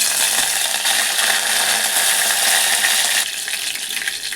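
Steady, loud sizzling of curry leaves in hot oil for chicken rassa, a dense crackling hiss that eases slightly near the end, with no voices.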